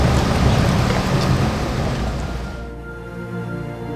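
Steady rain falling around a bridge in Venice, a loud broadband hiss that eases after a few seconds, leaving a quieter wash with faint tonal hum beneath, no talk.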